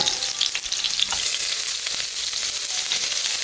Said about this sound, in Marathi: आनी आतां हितून हांव घालता आमचे फायनली चॉप्ड ऑनियन